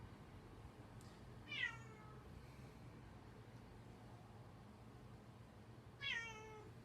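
A cat meows twice, a few seconds apart, each a clear rising-then-falling call heard fairly close over a quiet, faintly humming indoor room with no one speaking.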